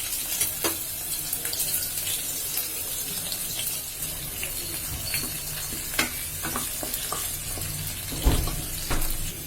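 Onions tipped into hot oil in a pan while making a beef pan pizza sizzle and crackle steadily, with stirring clinks and a brief tap-water splash near the end, close and moderately loud without talk.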